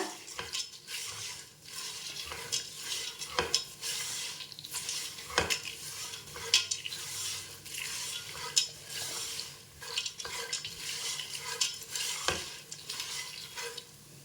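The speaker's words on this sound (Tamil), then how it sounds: "அதை வறுத்துக்கிறேன்" Roasted gram and peanuts are dry-roasted and stirred in a pan for a puffed rice snack. A spoon scrapes and rattles the pan in a continuous, moderately loud rhythm, with sharp clinks now and then over a soft crackle.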